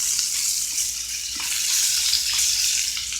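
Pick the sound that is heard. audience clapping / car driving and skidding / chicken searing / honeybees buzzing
chicken searing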